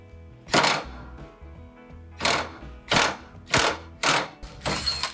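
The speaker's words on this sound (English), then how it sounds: "I've got my battery powered 20 volt impact wrench" A battery-powered 20 volt impact wrench works a ball joint nut on a Porsche 914, firing in about six sharp, loud bursts of rapid hammering separated by short pauses.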